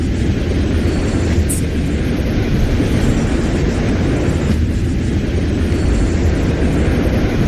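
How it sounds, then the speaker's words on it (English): A Night City train in the game Wuthering Waves gives a steady, loud rumbling roar, continuous throughout with no voices, a faint high whine drifting above the low drone. "What's a Night City train doing behind a door?"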